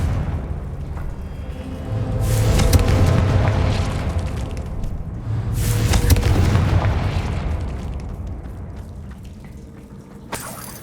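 A Confringo fire spell explodes in Hogwarts Legacy as two deep, rumbling blasts a few seconds apart, each swelling and fading, and a short sharp crack comes near the end.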